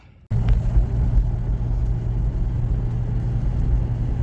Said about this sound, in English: So just taking my R50 for a quick spin here.